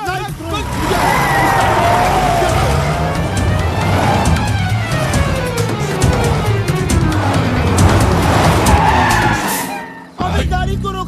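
A tempo vehicle starts and drives off with a loud, continuous engine roar and tire skidding squeals that rise and fall, set in a comedy scene with people talking over the engine until it cuts off abruptly near the end.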